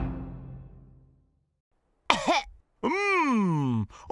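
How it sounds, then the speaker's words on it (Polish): A Peppa Pig cartoon character gives a harsh coughing fit, a short burst followed by a longer rasping, wheezing cough, loud and close after a quiet fading tone. "Od kiedy masz taki kaszel?"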